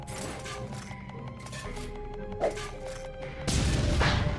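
A dynamite explosion in the video game Penny Arcade Rain-Slick Precipice of Darkness lands as a sudden loud, broad blast near the end, following a stretch of layered game music and effects.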